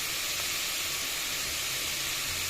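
Tomatoes sautéing in a pan for channa masala give off a steady, soft hiss of sizzling that stays even throughout, with no talking.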